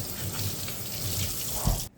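Shoelaces for Nike SB sneakers are rinsed under running water, a steady close splashing and gushing stream with small bumps of handling. It ends abruptly.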